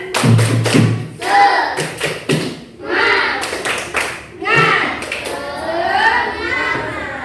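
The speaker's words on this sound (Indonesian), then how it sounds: "Coba kita tepuk semangat dulu biar lebih semangat lagi." Children in a classroom perform a rhythmic clapping chant, groups of sharp claps and thumps falling in bursts between spoken and chanted voices, loud and close.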